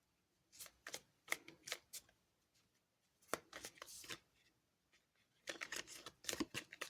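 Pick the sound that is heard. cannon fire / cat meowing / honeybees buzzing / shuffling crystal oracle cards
shuffling crystal oracle cards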